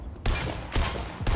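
Gunfire in the video game Fortnite, three sharp bursts of shots in quick succession about half a second apart, loud and close.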